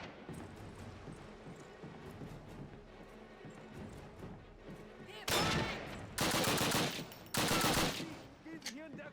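Three loud bursts of automatic gunfire in a Call of Duty game, each about a second long with short gaps between, rise sharply over a busy background of game sounds and voices.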